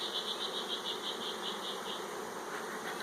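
Honey bees buzz around an open hive during package and nuc preparation, a steady close drone with a pulsing high whine, no talking.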